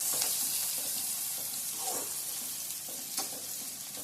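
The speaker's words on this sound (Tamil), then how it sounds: "நல்லா இப்படி எண்ணெயில் வதக்குங்க" Onions and curry leaves frying in oil in a pan, a steady soft sizzle with faint stirring scrapes throughout.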